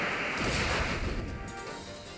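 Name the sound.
Brave Bird attack in a video game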